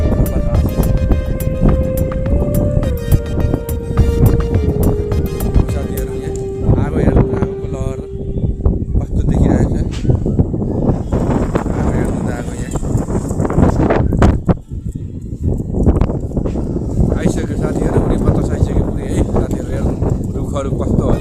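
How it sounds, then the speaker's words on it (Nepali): Strong gusting wind blowing through trees in a Himalayan village during heavy rainfall, a broad continuous roar of noise that swells louder in the second half, with people talking over it and a tonal hum early on. "हुरी बतास आउँदैछ"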